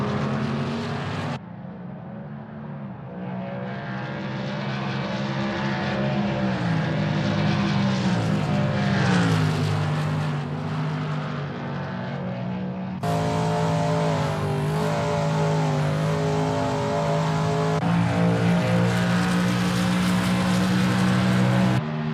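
A Shelby Mustang GT350R racing at Willow Springs in a video game, its engine roaring loud and steady with rising and falling revs through gear changes, no voices.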